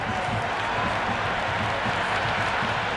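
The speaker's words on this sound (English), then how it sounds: "There's an almost tangible fervour throughout the crowd at the moment." Steady roar of a cricket stadium crowd cheering and applauding in an IPL PlayStation video game, Chennai Super Kings versus Sunrisers Hyderabad, a dense continuous wash of noise throughout.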